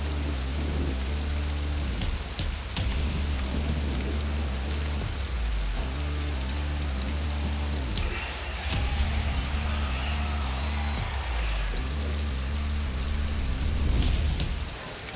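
Rain hisses steadily in the MXGP 3 motocross video game while a dirt bike engine drones and shifts pitch underneath, with the downpour continuous throughout.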